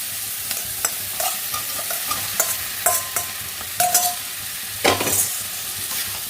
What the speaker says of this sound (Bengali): পেঁয়াজ সয়াবিন দুটোই একসাথে ভাজা হয়ে যাবে